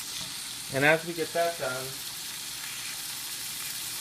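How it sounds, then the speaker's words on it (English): Beef browning in a hot pan for Thai curry, a steady broad sizzle filling the whole clip at an even level, with someone speaking briefly over it near the start. "Now our pan is hot, so let's go ahead and start getting the beef browned."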